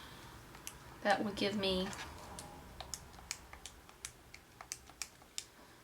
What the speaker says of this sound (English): I'm going to type that into my calculator.